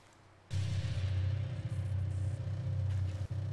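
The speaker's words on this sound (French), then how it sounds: "Non, c'est un groupe électrogène." A power generator in the horror video game Slender: The Arrival kicks in abruptly and drones on with a steady, loud low hum and faint mechanical rattle, then briefly dips near the end.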